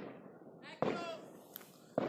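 New Year's Day fireworks and firecrackers go off in two sharp, loud bangs about a second apart, with a fainter pop between them, while people talk in the background.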